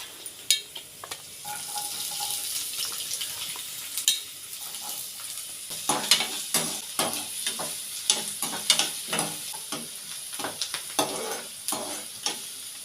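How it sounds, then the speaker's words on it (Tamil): Chopped onions sizzle and fry in a pan while a utensil stirs them in a steady series of scraping, clattering strokes, loud and close, with no talking. "இப்போ வந்து கட் பண்ணி வச்சுக்கிற வெங்காயத்தை சேர்த்துக்கலாம்"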